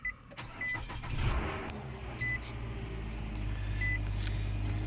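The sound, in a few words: 2012 Nissan Altima 2.5 S engine starting and idling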